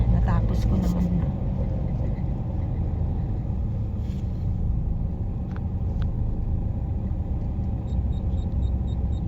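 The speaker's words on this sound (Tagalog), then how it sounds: "Traffic." Steady road traffic rumbles throughout, a low continuous roar of passing cars and engines near a hospital in Baguio, with faint chatter over it.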